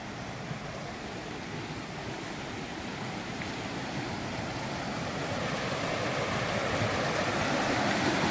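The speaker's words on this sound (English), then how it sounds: "A little creek that feeds this little lake." Small creek flowing into a lake on a mountain hike, a steady broadband rush of running water, close and even, growing slightly louder throughout with no voices.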